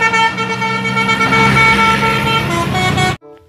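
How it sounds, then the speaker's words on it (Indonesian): A telolet bus horn blares a loud, sustained musical chord for about three seconds, then cuts off abruptly, leaving a brief faint tail. "Mobil bus telolet, teman-teman."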